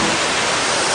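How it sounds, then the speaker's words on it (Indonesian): The Girimanik waterfall, a loud, dense, steady roar of falling water filling the whole clip without pause, close and continuous, with no voices. "Ini dia yang namanya air terjun Girimanik."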